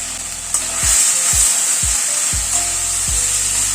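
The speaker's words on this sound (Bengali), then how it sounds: "সবগুলোকে আদা, কাঁচা লঙ্কা, নুন, হলুদ সব মশলাটাকে একসাথে একটুখানি নাড়াচাড়া করে নিচ্ছি।" Pabda fish stirred in a hot pan with ginger, green chilli, salt and turmeric, a loud steady sizzle with a few dull scraping strokes of the spoon, close and with no talk.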